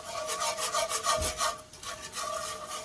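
A roux whisk scrapes and rubs in quick rhythmic strokes through casserole sauce made with water and Worcestershire sauce, heard close and fairly quiet with no voices.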